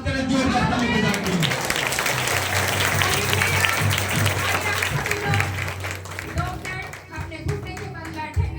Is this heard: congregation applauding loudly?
yes